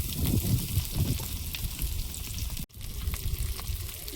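Whole cumin, onion and green chili frying in a pan for egg bhujia, a continuous close sizzle with light stirring, one brief cut in the middle, no talking.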